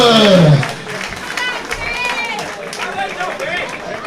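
An audience applauds boxers at a club boxing night after a unanimous-decision result is announced, a loud burst of clapping that quickly dies down under crowd chatter and a voice on the public address.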